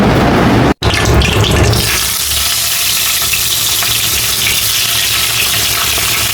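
Tangra fish fry lightly in a pan with a loud, steady sizzle and crackle. The sizzle hits hardest at the start, then after a brief cut it settles into a softer, even hiss.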